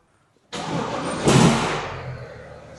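A car engine cranks and catches, then settles into a loud running idle with a brief surge in revs before easing down.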